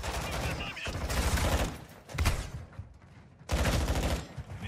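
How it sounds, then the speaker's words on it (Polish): Bursts of gunfire in Call of Duty Modern Warfare 2 crackle in two dense volleys separated by a quieter stretch, loud and close. "Ktoś strzela, strzela, strzela."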